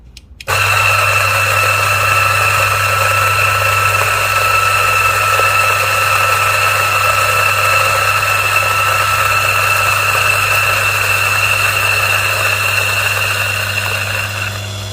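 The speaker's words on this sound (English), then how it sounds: "Okay, let's grind." A DF64 coffee grinder grinding beans, starting suddenly and running as a loud, steady motor whine with a constant hum that continues close up for the rest of the stretch.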